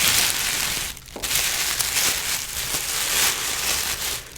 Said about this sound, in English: I do love some tissue paper sounds.